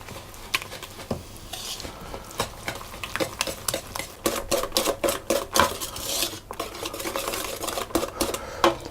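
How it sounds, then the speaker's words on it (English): Eggs and caster sugar are mixed in a bowl for lemon squares, with repeated scraping and tapping of a utensil against the bowl in an uneven rhythm, close and clear with no talking. "I'm going to add into that my 250 grams of caster sugar, and I'm going to mix that together."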